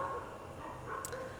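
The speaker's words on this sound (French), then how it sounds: "Merci les chiens qui aboient au moment où je démarre mon live." Dogs bark somewhere outside at night, faint and distant, giving a few soft, muffled yaps against a low background hum.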